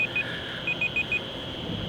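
Small timer beeping in quick pairs of short electronic bleeps, two clusters separated by a pause, fairly close over a faint background hum.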